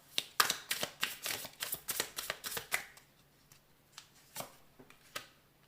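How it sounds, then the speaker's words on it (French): Oracle cards being shuffled by hand, a quick run of crisp riffling slaps followed by a few slower, separate card sounds as three cards are drawn, close and fairly quiet, with no talk. "On va prendre 3 cartes."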